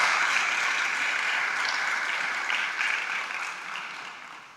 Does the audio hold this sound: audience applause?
yes